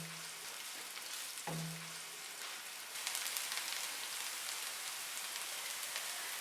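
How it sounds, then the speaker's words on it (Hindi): Chopped onions softening in oil in a pan, giving a steady, quiet sizzle and crackle that rises in intensity partway through, with no talking. "अब पैन में डालेंगे ऑयल और चॉप प्याज को सिर्फ हल्का सा सॉफ्ट करना है"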